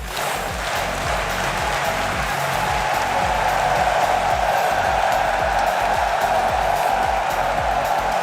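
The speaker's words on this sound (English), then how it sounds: "Our fellow casters, everybody on the desk right now, getting these claps going in the arena." Arena crowd at a Rocket League RLCS 2022-23 Spring Major grand final in Boston keeps up continuous rhythmic clapping, a dense, loud, steady wash of hands with no pauses.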